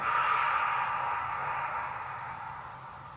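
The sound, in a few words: exhaling breath during a pilates exercise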